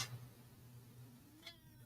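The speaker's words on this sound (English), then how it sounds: "Meow." A pet cat gives a faint, short meow indoors over a steady low hum, brief and somewhat distant.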